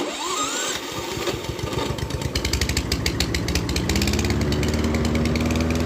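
A Dnipro-M petrol lawn mower pulled into life, with a quick rising cranking rattle that catches into a loud, close, steady engine chug and settles into an even running drone.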